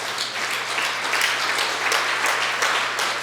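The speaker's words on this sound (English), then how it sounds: "Please join me in giving them a round of applause" A room of guests at a chamber of commerce evening event at Ninja Nation, Boardman, applaud together, producing a full, steady wash of clapping that holds at a strong level throughout, with no speech.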